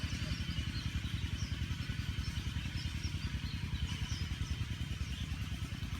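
A vehicle engine, probably a motorcycle, thrumming steadily with a fast regular low pulse, moderately close and continuous, with no voices over it.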